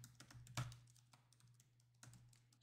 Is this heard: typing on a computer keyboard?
yes